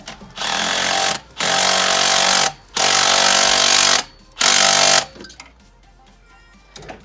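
An impact gun tightens turbo up-pipe bolts on a 6.0 Powerstroke diesel engine in three loud, close, rattling bursts of about a second each, separated by short pauses, followed by quieter clinks of metal.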